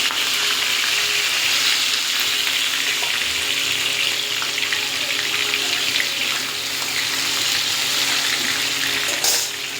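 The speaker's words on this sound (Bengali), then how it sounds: "এই মাছটা কিন্তু খুব ফটফট করে ফোটে, তো ওই জন্য ভাজার সময় ঢাকা দিয়ে ভাজতে হয়" Fish spits and crackles as it fries in oil under a covered pan, a dense steady sizzle with a few sharper pops, close and continuous with no talking.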